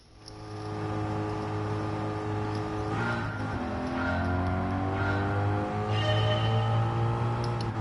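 Race car in Gran Turismo 7 circling the big oval at Daytona, a steady close engine drone with a shift in pitch around the midpoint and a faint tire scrub, no voices.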